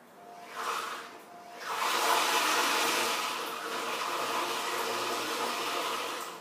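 A stick blender whirs steadily through lemon pie batter, starting with a short burst, dipping briefly, then holding a loud, even hissing drone for several seconds.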